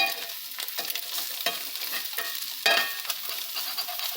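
An egg sizzles and crackles steadily in a hot frying pan while being cooked for a bacon egg sandwich, with scraping and stirring taps over the continuous frying hiss.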